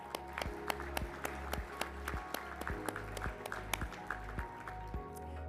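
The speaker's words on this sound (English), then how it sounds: "Please join us in a round of applause" Scattered applause at an awards gala, with a few distinct claps over a background of music and crowd murmur.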